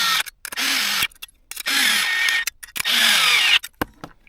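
A power tool drives bolts with a 7mm socket on a Porsche 993 headlight during a Micro D2S projector retrofit. Several loud, close bursts of whirring follow one another, separated by short pauses and clicks.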